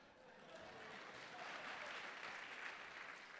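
A large church audience at a Hindi-language conference session claps steadily, a dense sustained wash of applause that swells slightly and continues throughout, heard from a distance.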